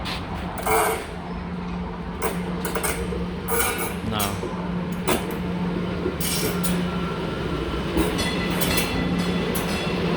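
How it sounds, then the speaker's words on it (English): A train arriving at a station rumbles and clatters steadily nearby, with a low drone and repeated rhythmic clicks and bangs from the wheels and cars throughout. "this train is now arriving to the station"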